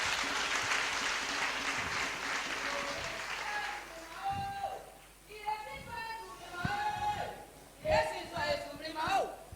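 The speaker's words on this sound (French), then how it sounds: "On va l'applaudir encore." A church congregation in Côte d'Ivoire claps loudly during a service, with a steady burst of applause that gives way to speech and singing-like voices with scattered claps.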